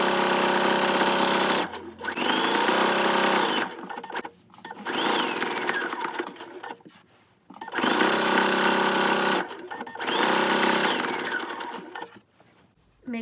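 A sewing machine stitches a baby burp cloth in several steady runs of rapid mechanical whirring, close and loud, separated by brief pauses and a few soft handling clicks.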